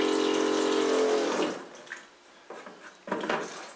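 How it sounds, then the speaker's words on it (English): A sink faucet running, a loud close hiss of pouring water for about a second and a half that then shuts off, followed by a few quieter drips and splashes. "So now if I turn this handle, water should come out."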